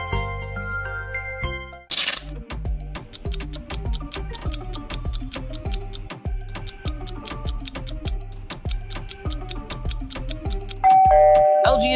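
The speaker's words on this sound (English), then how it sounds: "LG is correct." LG mobile phone ringtone: a bright, chiming electronic melody with steady, clock-like plucked notes over a bass line, played loud and clear with no talking.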